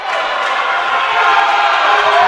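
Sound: basketball crowd cheering at a college game

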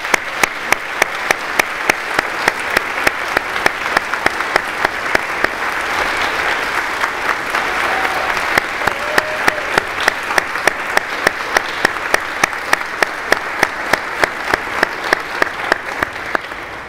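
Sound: round of applause from audience

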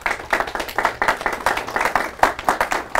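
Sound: audience clapping

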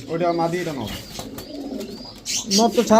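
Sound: pigeons cooing

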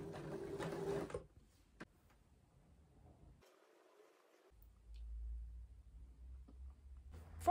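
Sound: sewing machine sewing on a gusset

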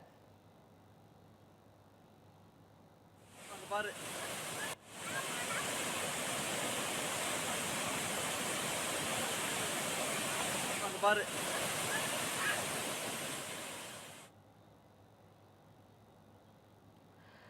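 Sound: Periyar waterfall, water rushing between rocks

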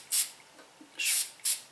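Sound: Isana water spray bottle spraying a fine mist

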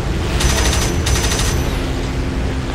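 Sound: Ta-152 cannon fire in video game Birds of Steel

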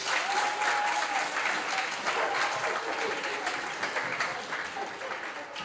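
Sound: crowd applause at senior night

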